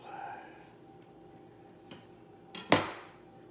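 A knife cuts through freshly baked, cooled cornbread in a baking pan, a few faint scrapes and then a sharp clatter near the end as the blade meets the pan, close and fairly quiet.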